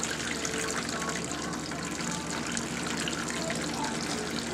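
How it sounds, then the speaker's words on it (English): Sparge water for all-grain brewing pours through a bed of grain and drains into a pot below, a steady, close splashing rush like a light rain shower that continues evenly throughout. "how much water is entering the grain bed and how much water is actually exiting down into our pot below"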